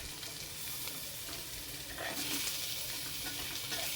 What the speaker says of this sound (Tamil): வெங்காயம் நல்லா வதங்கணும் சிம்மில் வச்சு விட்ருங்க